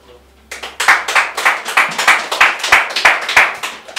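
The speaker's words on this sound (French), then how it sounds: "Sous vos applaudissements, mesdames, messieurs" A single person clapping in a steady, rhythmic beat, loud and close, starting abruptly after a brief quiet moment at a contest event on stage.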